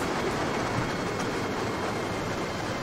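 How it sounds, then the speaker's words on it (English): A steady, continuous rumble of an LNER Azuma train in motion in a train simulator video game, even and unbroken, with no voices. "That is a ride on a LNER Azuma."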